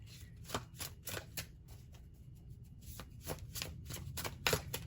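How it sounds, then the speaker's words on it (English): Tarot cards being shuffled close up, a quiet series of quick papery riffles and flicks in uneven bursts. "Let me just shuffle up the cards a little bit here"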